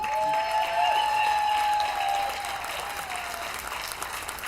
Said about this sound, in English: I think you get the award on the cheer there, Jim.